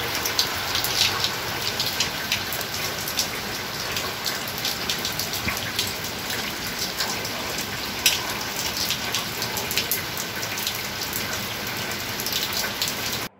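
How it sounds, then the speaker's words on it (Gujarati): Light rain falls steadily over a coastal village belt near Jafrabad in Amreli district, Gujarat. Its even, close patter has scattered sharper drop hits and a faint low mechanical hum underneath, with no voices. "અમરેલી જિલ્લાના જાફરાબાદના કોસ્ટલ બેલ્ટમાં શરૂ થયો ધીમી ધારે વરસાદ"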